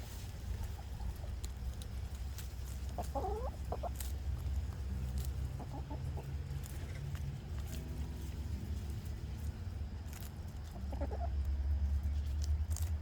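Hens cluck softly inside a backyard coop on an autumn homestead, scattered short calls rising now and then over a steady low rumble of background noise.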